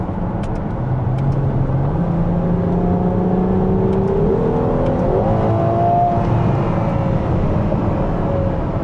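Ferrari 12 Cilindri accelerating hard, its V12 engine note climbing steadily in pitch through the gears, loud and close inside the car, with a brief dip and surge mid-run and no talking.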